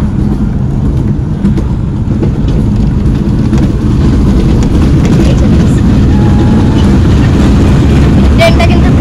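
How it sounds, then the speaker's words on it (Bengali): A train runs fast just after pulling out, its loud, continuous rumble and rattling wheels filling the whole stretch close by, with no pauses. "ট্রেনটা কিন্তু ভীষণ জোরে চলছে"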